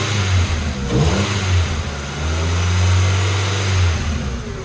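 Ford Focus engine running close up, settling into a steady idle with a faint whine from a pulley riding on the low, even engine hum; no talking.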